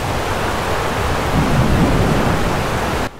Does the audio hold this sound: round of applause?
no